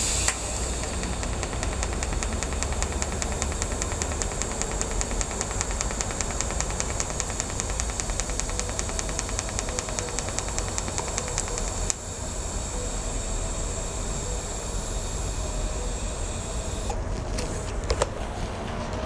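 TIG welding thin stainless steel with an ArcCaptain 200P set to 40 amps pulse: a steady, close electrical hiss and hum laced with rapid, regular pulsing, shifting partway through and ending with a few sharp crackles.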